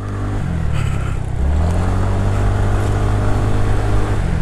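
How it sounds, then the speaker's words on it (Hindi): A Kia Seltos races past on an open highway, its engine and road roar loud and close, the low drone deepening as it passes and holding steady for several seconds without speech. "ये गाड़ी वाला फुल जोश में भाई, फुल भगा रहा है ये।"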